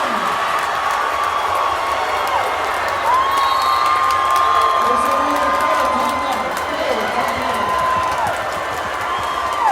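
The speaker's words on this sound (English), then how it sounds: "listen to this crowd, loving every minute of it" A crowd at a boys high school basketball game between Northgate and Las Lomas roars steadily in a gym, with whistles and shouts rising through the noise as an announcer talks over it.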